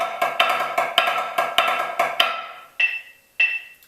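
A drumline snare plays a triplet grid with diddles on the downbeats in the first grouping, a crisp run of rapid, accented strokes, followed by two isolated ringing hits after the pattern stops.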